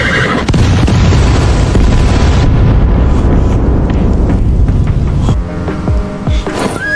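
Explosion in an animated historical drama set in the late Ming era, a loud sustained booming roar that fades, followed by horses whinnying and neighing near the end.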